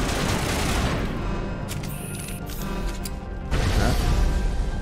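Gunfire in Mass Effect, a mix of bursts and sharp cracking shots with mechanical clatter, loud then briefly thinning before a heavier volley resumes, with no talk.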